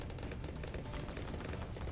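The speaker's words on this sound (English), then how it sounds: "Gonna grab a mortar, and we're gonna mortar this guy." Mortar tower in Bloons TD 6 firing, heard as dense, continuous, muffled popping blasts that pile up into a constant rumbling barrage of game explosions, fairly quiet, with no talking.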